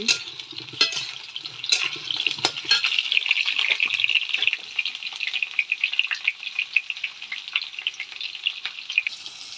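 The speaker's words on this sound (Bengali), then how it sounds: "পটলগুলো লাল লাল করে ভাজতে হবে আমি উনুনে রান্না করছি" Pointed gourd frying in a pan over a clay stove: a steady, bright sizzle with occasional clinks and scrapes of stirring close by, no voices.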